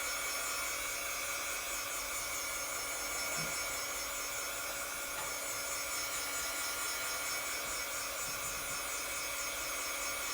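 A heat tool blows air steadily for the whole stretch, a loud, constant whooshing hum like a hairdryer, used while making a glitter canvas craft.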